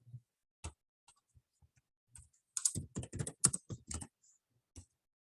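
Computer keyboard with an English layout being typed on: a few scattered clicks, then a dense burst of quick keystrokes and one last tap, crisp and close in a quiet room.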